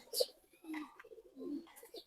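Pet pigeons kept at a home loft in Savar give a few soft, low coos in separate phrases, close and fairly quiet, with no talk over them.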